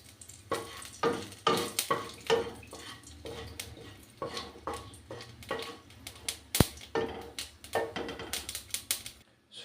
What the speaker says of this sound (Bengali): এবারে ওই তেলে একটু সর্ষে আর শুকনো লঙ্কা ফোড়ন দিলাম